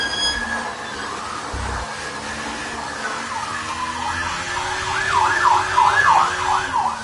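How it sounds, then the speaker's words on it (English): A distant wailing siren rises and falls rapidly in the background over a steady rumble of traffic noise, growing a little louder toward the end. "There is a lot of sirens going on"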